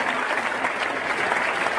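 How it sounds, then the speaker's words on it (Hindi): Sustained applause from a big crowd at a convention hall event in Patna, Bihar, a dense wash of clapping holding steady at the same level throughout. "और ये तालियों की तादाद तो और बढ़ना चाहिए।"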